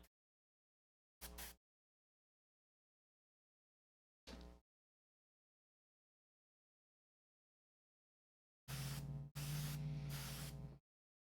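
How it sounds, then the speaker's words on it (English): An airbrush sprays thinned dark silver acrylic paint onto miniatures in short hissing bursts: two brief puffs, then a longer stuttering burst near the end, with silence between them. "I'm just spraying it right on top of all of these little dudes"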